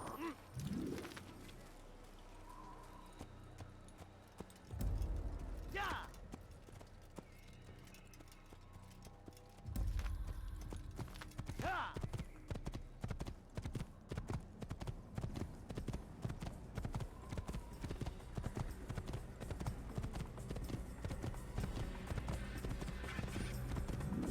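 Horse hooves clip-clop at a gallop in the Assassin's Creed video game, a steady rapid rhythm running through most of the clip, with a few bird coos and brief voices over it.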